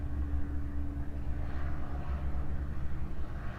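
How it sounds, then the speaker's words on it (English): An airplane flies overhead as a steady, distant low rumble, continuous and fairly faint, mingled with outdoor background noise. "There's an airplane I hear,"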